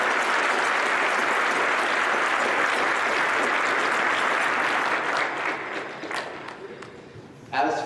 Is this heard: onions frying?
no